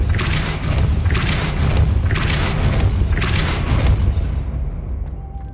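The Depulso spell in Hogwarts Legacy goes off as a series of loud, booming blasts, each a broad whoosh-like burst repeating roughly every second before fading out.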